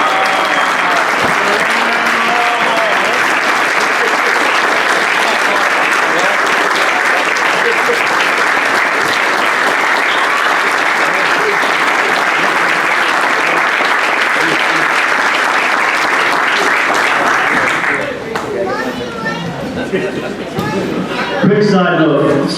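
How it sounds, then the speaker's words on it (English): A standing audience applauds loudly at an athletics hall of fame induction ceremony, with dense sustained clapping and crowd noise that fills the room before fading near the end, where a few voices speak. "So let's stand up and give Mark a big round of applause."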